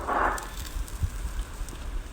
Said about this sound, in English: It's actually raining a bit